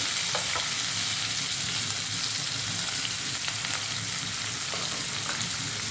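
Onion and green chillies sizzle steadily in hot oil in a pan, with a dense, continuous frying hiss and occasional faint stirring scrapes close by.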